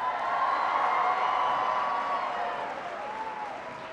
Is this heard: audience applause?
yes